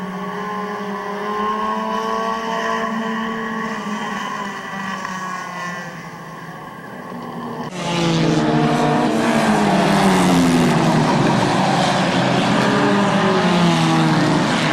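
Race cars at Midvale Speedway: loud engines drone and whine with shifting pitch, then swell sharply louder as the cars roar close past, sustained and powerful throughout.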